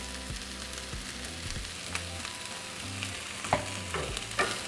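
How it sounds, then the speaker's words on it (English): Peppers seasoned with garlic salt sauté in a pan for a stuffed-potato filling, giving a steady close sizzle with scattered scraping and stirring knocks. "Okay, so after 3 minutes, we're going to add our peppers."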